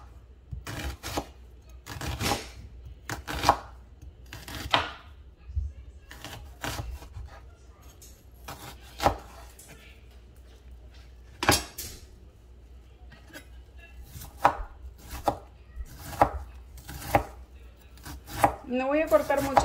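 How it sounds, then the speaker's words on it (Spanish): A knife chops onion on a cutting board in a home kitchen, with crisp, close taps coming in irregular bursts and pauses against a quiet room. "Cortamos la cebolla."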